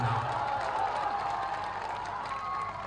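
A crowd at a political rally in Bihar claps and murmurs, a steady, fairly distant wash of applause and cheering without pauses.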